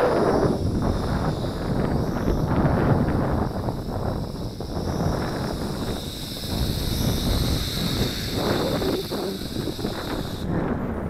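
Gusty wind roars across an outdoor microphone in a steady, broadband rush while a WLToys V636 Skylark RC plane flies on a windy day, with no talk.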